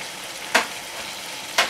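Tawa chicken with masala, ginger and lemon juice cooking on a griddle over high flame, a continuous sizzle with two sharp louder bursts of frying spatter, close, with no talking.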